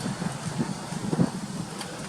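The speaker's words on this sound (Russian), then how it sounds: "Но ветер реально сильный," Strong, gusty wind rushes over a rooftop where pigeons cling to the roof, a steady broadband roar that swells and buffets the microphone in uneven surges, with no voices.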